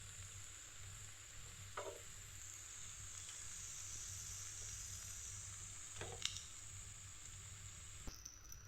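Sathu maavu kuli paniyaram batter fries in a pan with a quiet, steady sizzle, broken by a few faint scrapes and clicks of a utensil; no one speaks.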